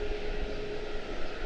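An airplane departing Charlotte-Douglas International Airport gives a steady, moderately faint engine drone with no voices.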